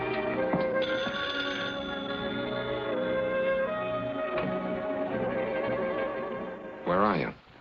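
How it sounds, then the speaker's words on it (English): An old telephone bell rings in a 1948 film noir scene, a sustained, bright metallic trill that runs for several seconds and then breaks off. A short voiced sound follows near the end. "Your phone's ringing."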